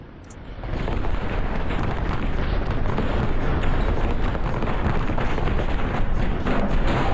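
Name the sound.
rockets hitting in War Thunder replay, from a video game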